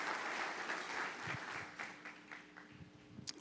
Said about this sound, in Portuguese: E você vai aplaudir forte a Deus